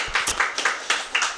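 A church congregation at a Sunday service in Paris claps in thanks, fairly loud and close, with a quick run of overlapping hand claps.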